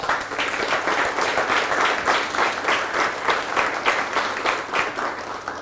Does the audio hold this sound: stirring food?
no